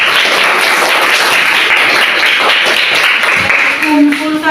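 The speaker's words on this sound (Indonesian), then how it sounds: "silakan dulu sambil tepuk tangan." A classroom of students claps hands together in a dense, continuous burst of applause, loud and close, with voices mixed in.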